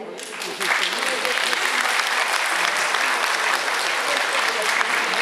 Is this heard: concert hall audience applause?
yes